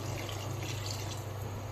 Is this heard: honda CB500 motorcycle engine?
no